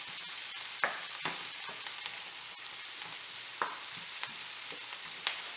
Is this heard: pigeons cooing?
no